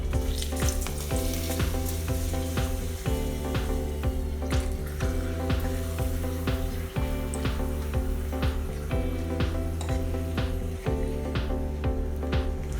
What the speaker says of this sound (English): Now let's fry the papad.